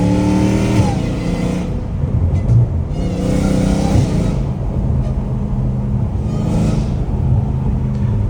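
Dodge Hellcat Redeye with straight pipes revving hard, a loud, raspy exhaust roar rising and falling in repeated throttle blips with a deep rumbling idle between pulls, close up and heard alone.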